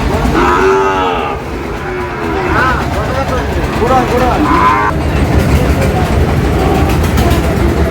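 Several cows and calves moo loudly at close range at a livestock market, their calls overlapping with chatter and a steady outdoor rumble in the background.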